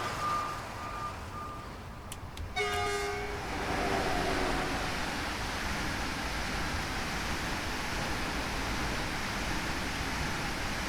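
A DB BR 401 ICE 1 high-speed train passes on the Frankfurt S-Bahn network in Train Sim World 5, a brief tone giving way to a loud, steady rushing roar that holds to the end.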